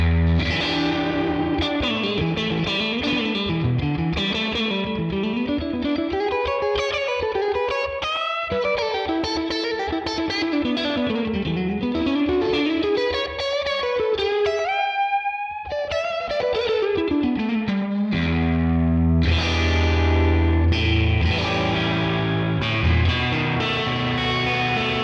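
An electric guitar played through a tweed amp preset with a warm, lightly overdriven tone and slapback echo, bending notes in bluesy phrases, then strumming full chords.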